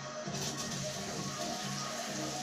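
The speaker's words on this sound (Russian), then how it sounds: "Включаю водичку на душ." Shower water running steadily from a thermostatic tap set to 40 degrees during a home repair, a continuous broadband hiss heard alone at moderate level without any talk.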